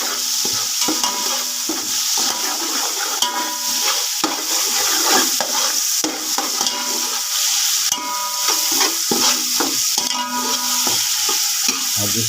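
Onions and green chilies for Hyderabadi chicken biryani fry in hot oil, a loud continuous sizzle up close, broken by the scrape and clatter of a spoon stirring through the pan.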